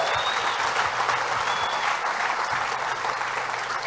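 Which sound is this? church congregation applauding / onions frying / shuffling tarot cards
church congregation applauding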